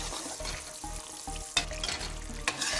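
Sugar syrup cooks in oil in a pan for semolina halwa, a dense, steady bubbling sizzle heard up close, with a couple of sharper spattering bursts near the end.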